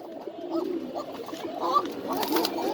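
Fancy pigeons on a breeder's farm coo softly in a low, repeating rumble, with faint background noise and occasional light clatter.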